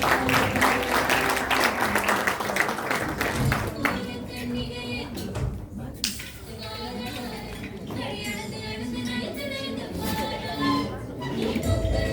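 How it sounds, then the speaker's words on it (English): An audience at a Tamil New Year event held by the Umhlanga Hindu Society bursts into dense, loud applause that fades after a few seconds into murmuring chatter and a voice at the podium. "We all give him a round of applause."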